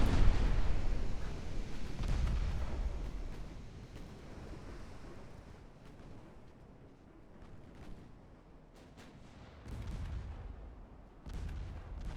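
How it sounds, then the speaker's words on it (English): Heavy 13-inch naval guns booming in a 1905-era battleship game, a rumbling series of deep blasts and rolling low-end roar that swells early, fades in the middle, then returns with fresh loud thumps near the end. "she's taking some pretty serious damage from those 13-inch guns"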